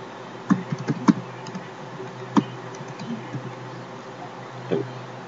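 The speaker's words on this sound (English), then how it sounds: "I'm just going to go ahead and type that in here" Someone types a Hamachi IP address on a computer keyboard, sending a few sparse, close key clicks in short bursts over a quiet background hum.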